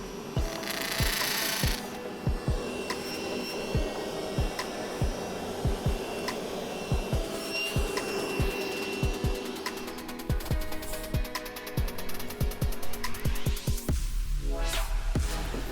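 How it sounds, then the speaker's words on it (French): Masonry bit drilling into an aerated concrete wall to fit wall plugs for a folding workbench, a steady close whine broken by rhythmic hammering pulses, running continuously with no talk. "Utilisez une mèche à pierre au diamètre assez fin afin de d'abord passer au travers des trous déjà préforés et par la suite vous forez plus largement"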